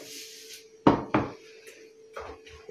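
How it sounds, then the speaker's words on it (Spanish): A metal frying pan is set down on a kitchen stove with two clattering knocks close together, then a softer scrape and a couple of light bumps. "Otra vez, ponemos la sartén a fuego fuerte."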